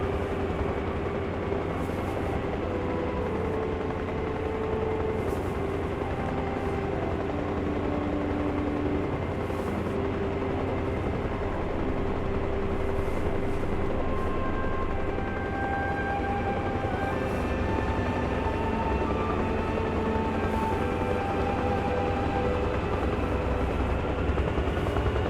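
A military helicopter in Arma Reforger hovers with a loud, steady rotor and turbine drone, a constant low rumble with a faint periodic blade whine lasting throughout, no voices.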